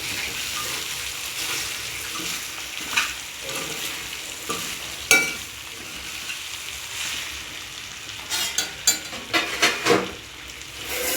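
Lemon rice sautéed in a pan gives a steady sizzle with scraping stirs, and sharper spatula clatters cluster near the end; nobody speaks.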